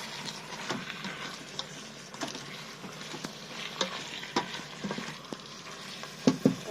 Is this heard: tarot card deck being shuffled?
no